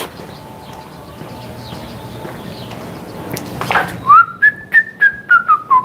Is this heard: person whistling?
yes